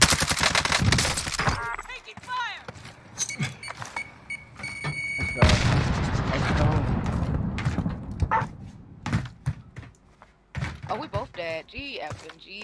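Gunfire in the video game Call of Duty Warzone (Cold War), with bursts of automatic fire and single shots plus thuds and effects, mixed with players talking over one another.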